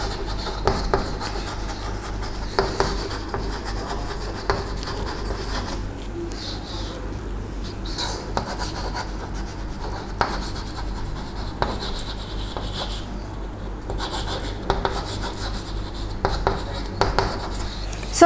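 Numbers written on a board during a maths lesson make soft, intermittent scratching strokes and taps, fairly close and steady, with no talking.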